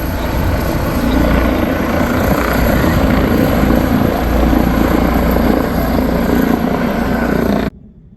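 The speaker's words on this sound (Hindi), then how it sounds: "अभी जो हेलीकॉप्टर आया हुआ था" An air ambulance helicopter passes overhead with a loud, steady rotor thrum and engine roar that holds throughout, then cuts off abruptly at the end.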